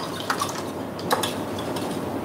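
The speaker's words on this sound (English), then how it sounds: "I'm just gonna lightly whisk my eggs first before I add them" Eggs being lightly whisked in a bowl for a quiche, soft continuous scraping with a few sharper clinks of the whisk against the bowl, close and fairly quiet.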